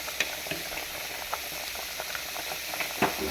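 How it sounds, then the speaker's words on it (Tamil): Drumstick leaves (murungai keerai) boil in a pot with a steady bubbling hiss broken by small scattered pops, fairly quiet and with no talk. "இதை வந்து பார்த்திங்கன்னா நல்லா கொதிக்குது"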